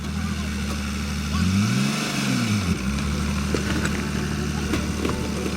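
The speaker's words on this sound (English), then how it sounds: "Hey, both back tires are spinning now." A stuck vehicle revs its engine hard at Saddle Mountain, both back tires spinning, the engine note rising and falling in a loud, close surge over a steady rumble, with faint voices behind it.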